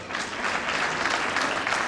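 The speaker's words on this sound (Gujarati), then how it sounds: "આપ બધાએ બહેનો માટે જોરદાર તાળી પાડી" An audience applauds women performers at a Gujarati folk music dayro evening, with dense steady clapping filling the whole moment from a crowd nearby.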